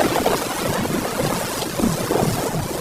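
Rain falls steadily in an animated cartoon scene, a dense rushing wash of noise with a low rumble underneath and no voices.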